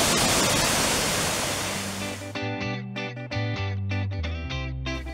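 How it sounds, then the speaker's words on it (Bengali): A steady roar of water from the Deomali waterfall in Odisha, spreading out and running off like a narrow river, fills the first couple of seconds before music with sustained tones takes over. "এইখান থেকে পুরো জলটা নেমে পুরো ছড়িয়ে যাচ্ছে এবং সরু নদীর মতো নিচের দিকে।"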